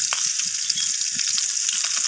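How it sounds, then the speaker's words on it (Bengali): Potatoes frying in a pan with salt and turmeric powder, a steady close sizzle running throughout with faint stirring scrapes and no talking. "একই প্রসেসে লালচে লালচে করে আলুগুলোকে ভেজে নেব।"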